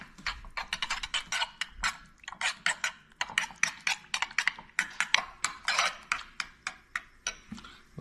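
A sauce with lime and mustard being mixed in a bowl, rapid rhythmic clinking and scraping of a utensil in repeated bursts, close and fairly loud, with no talking.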